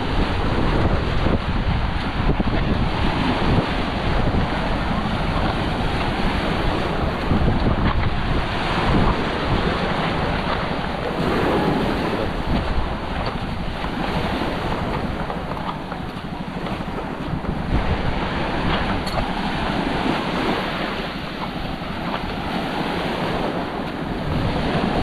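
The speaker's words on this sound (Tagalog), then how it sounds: "Caldibas, malakas ang alon" Strong ocean waves surge continuously at Caldibas, a loud, unbroken roar of surf with heavy wind buffeting the microphone throughout.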